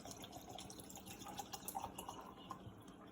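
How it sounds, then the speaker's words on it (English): Spring or purified water is poured into a container for detox water, a faint trickling splash with small drip-like bursts over a few seconds, quiet and with no talk. "you just add your water"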